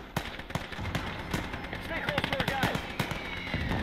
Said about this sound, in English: There we go, incoming mortar barrage.